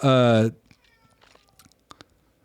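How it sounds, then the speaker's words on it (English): A cat meows to be let outside, giving one loud, close, drawn-out meow of about half a second, followed by quiet rustles and a couple of soft clicks. "My cat's driving me crazy. He wants to go outside so bad."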